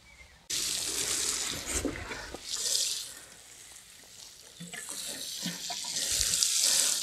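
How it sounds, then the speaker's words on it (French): Water pours steadily onto a vegetable bed planted with Cheyenne potatoes, a continuous close rushing splash that swells and eases, with no voices. "et maintenant il n'y a plus qu'à arroser"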